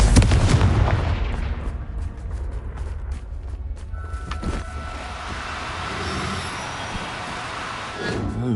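A Confringo blasting spell explodes in Hogwarts Legacy, opening with a loud booming blast that fades into rumbling debris and crackles, followed by quieter game ambience.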